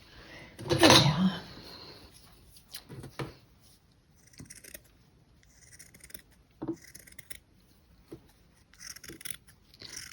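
Scissors snipping through felt while cutting pieces for brooch flowers: one louder scrape-and-cut near the start, then scattered light snips and rustles at an irregular pace, close and fairly quiet.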